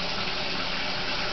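Tap water runs steadily from a sink faucet in a continuous broadband rush, close and fairly loud, filling the whole short stretch with no voices.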